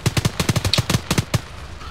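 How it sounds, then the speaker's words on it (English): A quick burst of about a dozen punchy gunshots fires in rapid rhythm in the military game ArmA, loud and close, then stops abruptly into quiet. "Yes, we are shooting."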